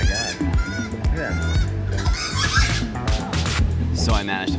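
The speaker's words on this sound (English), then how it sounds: "Noisy birds, oh my god." Geese honking noisily outdoors on a Caribbean island stop at Labadee, with repeated loud squawks and honks layered over nearby talking and background chatter.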